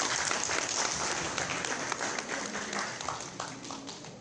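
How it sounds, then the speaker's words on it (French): An audience at a smartphone launch conference in Côte d'Ivoire applauds a brand director, a steady, dense clapping from a crowd in a room with a few sharper individual claps standing out. "On peut l'applaudir."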